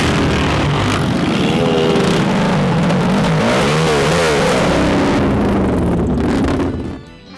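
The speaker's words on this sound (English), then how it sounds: "I'm going to ride the FTR750 factory Indian Flat-Tracker" A factory Indian FTR750 flat track motorcycle is ridden on a wet, muddy track, its engine roaring loud and steady with rising and falling revs and heavy wind buffeting, before fading at the end.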